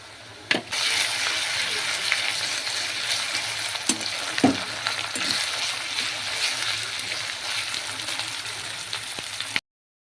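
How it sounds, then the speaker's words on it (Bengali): Garlic and ginger paste frying in a pan with onions for a Bengali chicken curry, a steady loud sizzle throughout with a few sharp clinks of stirring, cut off abruptly at the end. "এবার রসুন আর আদা ভালোভাবে ভাজা হয়ে গিয়েছে লাল লালভাবে"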